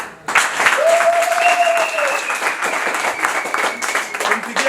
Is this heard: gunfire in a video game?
no